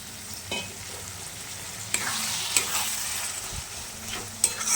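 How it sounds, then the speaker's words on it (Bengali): Chicken masala being stirred and fried in a wok over a low flame, with a spoon scraping the pan in several distinct strokes over a steady background sizzle; the sound is close and moderately quiet, and no one talks. "জল দিয়ে দিয়ে আমি এটাকে কষবো"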